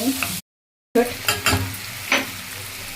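A spoon stirs soybeans with garam masala in a hot pan: a close, steady sizzle broken by scraping strokes, with one brief dropout of silence near the start.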